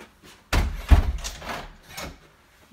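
A house's front door swings shut with a solid thud, followed by a second heavier knock and a short rattle as it settles. The sounds are close and alone, against a quiet room.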